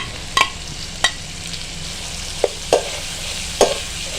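Bell peppers and onions stir-frying in a pan for a commercial-style dry chicken chilli, with a steady low sizzle broken by a few sharp scrapes and clacks of the spatula, close and fairly quiet.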